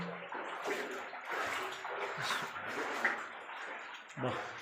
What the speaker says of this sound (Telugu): నీళ్ళు ఇంకా ఫ్రెష్గా వస్తున్నాయి కదా.